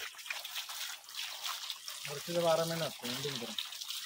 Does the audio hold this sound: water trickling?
yes